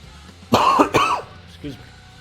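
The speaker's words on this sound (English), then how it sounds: "Sorry about the cough." A person coughs twice in quick succession, harsh and close, followed by a softer throat sound, over faint background hum.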